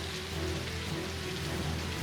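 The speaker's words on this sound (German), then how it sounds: "Verdammter Regen!" Steady rain patters across surfaces in a World War II strategy video game, a dense, even hiss of falling drops with a low constant hum beneath and no speech.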